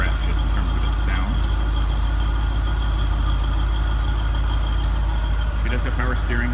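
A classic car engine with a factory-original sound idles steadily, a continuous low rumble nearby, with a voice speaking over it at times.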